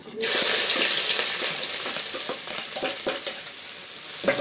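Chopped onion hits hot oil already seasoned with mustard seeds, cumin and asafoetida for a Gujarati peanut-bhujia curry, bursting into a loud sizzle that settles into crackling frying with scrapes and stirring clicks.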